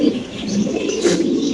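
A large Spanish pigeon held in a man's hands at a pigeon farm gives a low, throaty coo, one brief rolling call up close with no talk.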